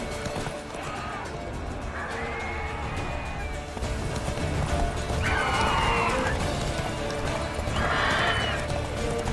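Geralt's horse Roach in The Witcher 3 neighs and whinnies in several bursts over steady hoof clatter and game ambience, moderately quiet, without speech.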